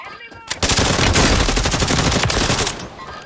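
Gunfire in the video game Call of Duty, a loud dense burst of rapid automatic shots starting abruptly and rattling for about two seconds before cutting off, with faint voices around it.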